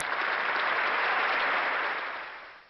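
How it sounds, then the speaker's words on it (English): An awards ceremony audience applauds steadily for about two seconds, a dense, even wash of clapping that fades out at the end. "A round of applause for Dr. Shovan."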